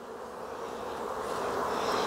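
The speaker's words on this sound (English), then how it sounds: "Let me show you what they're doing here. The bees are phenomenal." Honey bees buzzing inside a hive's honey box, a dense, steady drone close by that swells slightly louder over two seconds, with no talking.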